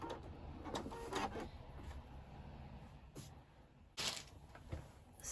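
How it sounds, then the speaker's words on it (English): A sewing machine stitches crepe fabric in short bursts of mechanical whirring, close by, with pauses and a few sharp clicks and clunks between runs. "I'm just trying to be careful not to stretch my fabric out while I sew it."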